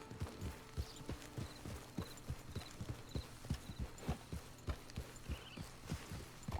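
Horse hooves clip-clop steadily in the Red Dead Online video game, an even walking rhythm of crisp, regular hoofbeats repeating about three times a second against a faint ambient background, with no talking.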